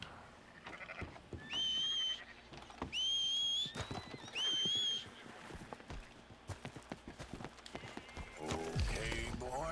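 A horse moves in Red Dead Redemption 2 with a steady rhythmic clip-clop of hooves and a few high tonal calls, while a player talks over it.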